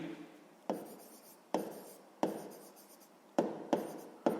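A pen writes numbers on paper during a sixth-grade maths exercise in a quiet room: about seven short, close scratching strokes come in an uneven rhythm, each ending in a soft trailing scrape, with no talking.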